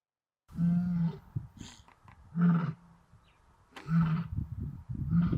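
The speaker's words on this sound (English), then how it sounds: "I've just seen the older lioness from the Madrid pride that doesn't have cubs. She was vocalizing a lot." Older lioness of the Madrid pride roaring in the wild, a series of deep, loud grunting roars close by, three or four rumbling bursts separated by short pauses, with no voices.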